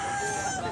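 A rooster at a Cebu gamefowl market gives a sustained, loud, near crow-like call that fills the whole short moment with no talk over it.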